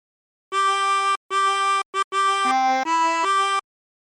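A tremolo harmonica plays a short phrase of the sea shanty Drunken Sailor: three repeated held notes, a quick short one, then a stepping run of changing pitches, all reedy and shimmering, close and alone.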